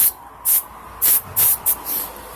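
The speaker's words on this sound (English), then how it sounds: "we're gonna spray through the lug nuts to give us that lubrication" Four short bursts of aerosol lubricant spray hiss on the lug nuts of a 2017 Jeep Cherokee, each about a quarter second long, up close, separated by brief pauses, followed by a softer trailing hiss.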